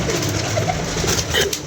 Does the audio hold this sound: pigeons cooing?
yes